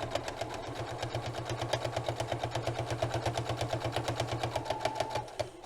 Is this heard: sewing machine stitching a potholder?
yes